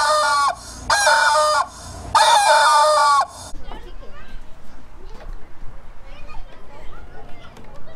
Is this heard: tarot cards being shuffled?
no